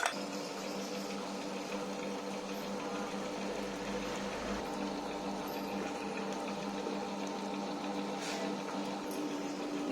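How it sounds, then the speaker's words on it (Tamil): A wet grinder churns hot obattu filling, a steady continuous mechanical whir with a liquid, sloshing texture, fairly loud and unbroken throughout. "சூடாக இருக்கிறப்பவே வந்து நம்ம கிரைண்டரில் போட்டு அரைச்சிக்கணும்"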